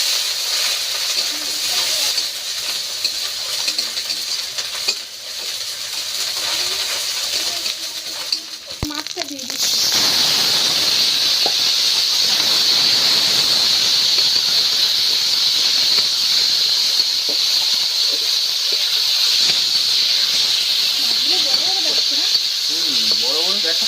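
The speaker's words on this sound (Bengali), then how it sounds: "পেঁয়াজ কাঁচা লঙ্কা আদা রসুন বাটা দিয়ে দিয়েছি তেলে" Onion, green chili, ginger and garlic paste sizzle in hot oil, a loud steady hiss that swells after a brief clatter partway through, with voices talking faintly underneath.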